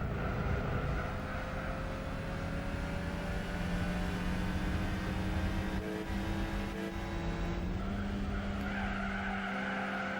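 A car in Gran Turismo 4 howls at steady high revs with a continuous tire-skid squeal throughout, and the engine note dips briefly near the end; no clear crash impact stands out.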